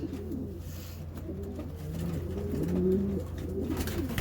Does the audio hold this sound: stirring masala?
no